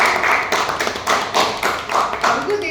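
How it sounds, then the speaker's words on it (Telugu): A small group claps at a film team interview: loud, close rhythmic bursts of hand claps repeating every half second or so. "to give a big round of applause to Siddharth Krishna"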